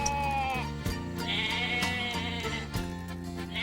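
Sheep bleat on a farm in a string of loud, close, wavering calls, several in succession over a few seconds with brief breaks between them.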